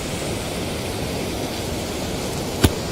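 Steady broadband rushing of falling water, constant and fairly loud, with one brief sharp click near the end.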